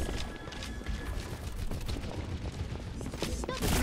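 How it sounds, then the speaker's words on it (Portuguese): Pharah firing at the player in Overwatch, a dense stream of gunfire and explosive thuds amid busy battle noise, continuous and fairly loud with a sharper burst near the end. "A Fara tá atirando em mim, galera."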